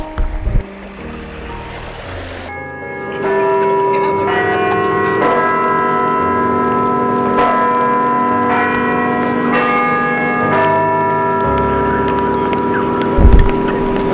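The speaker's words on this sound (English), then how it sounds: "the peal of the sunken bells can be heard coming up from under the thick ice" Church bells sunk in Lake Trzesiecko, imagined pealing up from beneath thick winter ice: sustained, ringing tones with several struck onsets layered into a continuous, resonant peal over a low rumble.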